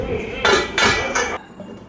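A metal lid is set onto a pot of simmering fish curry, making three close, loud clanks in quick succession before the sound settles into quiet.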